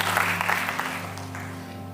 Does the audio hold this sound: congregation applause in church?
yes